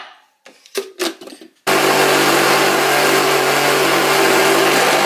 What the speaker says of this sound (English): And blend it.